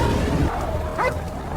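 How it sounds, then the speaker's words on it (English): A dog gives a couple of short barks and yips over a low rumbling background, fairly close and moderately loud. "His pet dog keeps barking non-stop."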